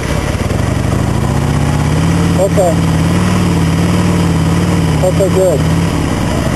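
A twin-cylinder motorcycle engine idles at low RPM during rear brake practice, a steady, close, low-pitched throb running the whole time while people talk briefly over it.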